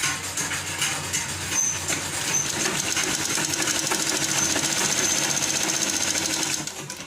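A sewing machine stitches a straight seam along a blouse's centre mark, running steadily and loud for nearly the whole stretch with a fast, even mechanical whir and rattle before stopping at the end.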